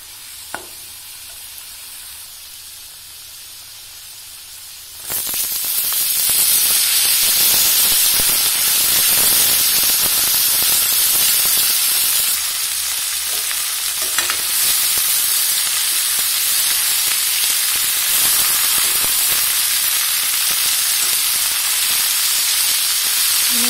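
Pumpkin leaves hit hot oil spiced with chilli and turmeric, setting off a loud, steady, close sizzle that starts abruptly after a few seconds of near quiet and continues strongly with stirring.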